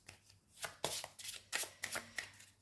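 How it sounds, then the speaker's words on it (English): A tarot deck being shuffled by hand, giving a series of quick papery riffles and slaps in uneven bursts, close and fairly quiet with no talking. "So we'll just shuffle it up a little bit."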